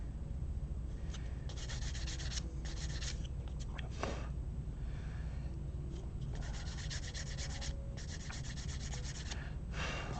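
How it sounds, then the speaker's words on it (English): Sandpaper rubbing on a small plastic Gundam model kit part to remove a leftover nub, steady close scratchy strokes in short bursts with brief pauses between, no talk. "Actually, that needs a little bit of sanding too."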